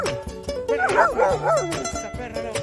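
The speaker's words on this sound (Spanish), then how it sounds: "¡Ah! ¡Esa perra!" A female dog gives a quick burst of several yipping barks and whines up close, with a person shouting over them at the same time.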